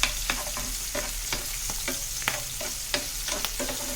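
Vegetables and onions sizzle steadily in a hot pan for vegetable fried rice, with repeated sharp scrapes and clinks of a spoon stirring them every half second or so.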